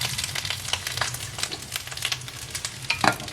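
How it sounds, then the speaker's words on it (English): Chilies and tomatoes frying in a pan, with a steady close sizzle and crackle broken by light stirring scrapes, with no voices over it. "now that our chilies are cooking and our tomatoes are cooking"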